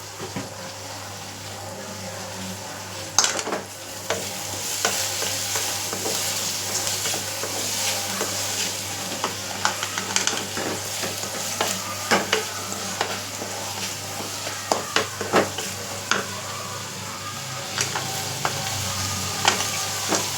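Onions sautéing in a pan while a spatula stirs them, a steady sizzle running throughout with frequent scraping clicks and taps against the pan, close and fairly loud, and no voices.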